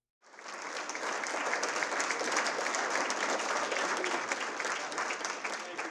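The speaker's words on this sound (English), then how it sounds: "for the first time in your lives, you've ever applauded for an NBA referee" An audience at a speaking event breaks into applause for an NBA referee, a dense, even wash of many hands clapping that starts abruptly and holds steady for several seconds without a voice over it.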